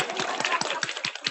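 An audience at a patient empowerment summit applauds, with a steady rhythm of distinct, fairly close hand claps in quick succession.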